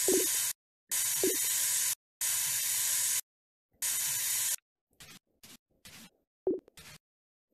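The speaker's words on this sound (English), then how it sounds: "Spray paint." Bursts of spray-paint hiss in a mixed reality painting app. Four long sprays, each about a second, come first, then several short quick puffs, loud and close, with no talk.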